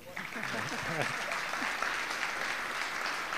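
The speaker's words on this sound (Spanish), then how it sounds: "un aplauso, por favor" An audience at an agricultural technology panel applauds steadily, a dense wash of clapping that holds through, while a voice speaks briefly over the start.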